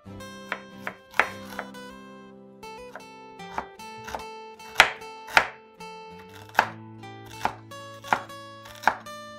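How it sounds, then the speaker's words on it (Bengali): Onions chopped into small pieces on a board, a series of sharp, close knife knocks at an uneven rhythm over soft background music, no talking. "পেঁয়াজগুলো ছোট ছোট টুকরো করে কেটে নেব।"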